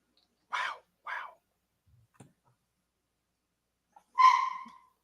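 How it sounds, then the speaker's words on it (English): A dog barks twice in quick succession, then once more with a longer, ringing bark after a quiet pause. The barks are fairly close and clear against silence, with no other sound. "Dog is barking."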